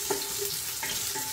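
Garlic and ginger fry in a pan for chicken and pork adobo, giving a steady, close hiss of sizzling oil with faint stirring.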